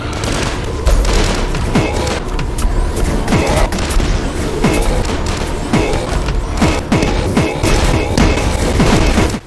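Mortar launches and explosions from the DUSK video game fire in a dense, loud barrage, repeated blasts and booms piling on one another almost continuously for the whole stretch.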